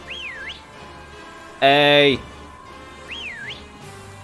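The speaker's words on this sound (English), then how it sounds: "Maybe we can whistle Gyarados." A player character whistles in Pokémon Sword & Shield while fishing in the Wild Area: two rising-falling whistle swoops, with a loud steady game tone between them and a man's short exclamation over it.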